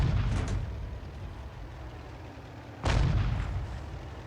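A leFH18B2 artillery gun firing shells in the World of Tanks video game, two loud booming shots a few seconds apart, each with a heavy rumbling tail.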